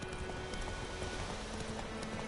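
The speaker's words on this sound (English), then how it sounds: "the horse is faster, just a little cumbersome." A horse gallops in a 2015 video game, its hooves clip-clopping in a fast, even rhythm under a soft, steady background wash, fairly faint and with no speech.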